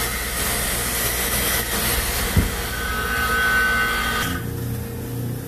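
A phone screen laminating machine runs steadily after being started for a Moto G9 Play glass repair, giving a continuous mechanical hum with a brief thump partway through before the sound drops off near the end.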